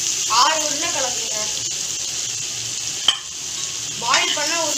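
Diced boiled potatoes stirred in a sizzling frying pan while making masala poori, steady frying hiss with scattered scraping stirs and a sharp clink, as someone talks over it.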